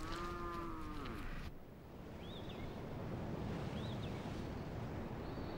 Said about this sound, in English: The local people are quick to bring out their cattle to feed on the fresh grass.